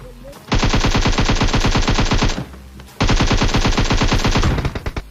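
AKM assault rifle fire in the mobile game PUBG Mobile comes as two long, loud automatic bursts of rapid, evenly spaced shots, separated by a brief pause, with no talk.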